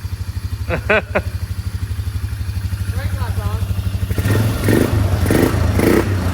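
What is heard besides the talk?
old four-wheeler ATV engine idling after restart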